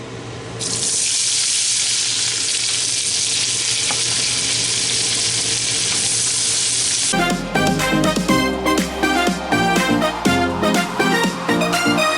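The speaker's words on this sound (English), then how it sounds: "So now you want to saute your onions." Half an onion sizzles in a hot pan, a loud, steady hiss filling the first several seconds, then breaking into crackling, popping bursts as the pieces are stirred; no speech.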